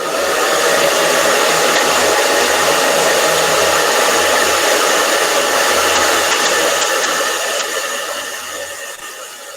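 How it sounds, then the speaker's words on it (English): A hair dryer blows loud and close over a freshly painted art journal page, a steady roaring whoosh that holds level for most of the stretch and then eases slightly toward the end. "And I'm going to dry it real quick."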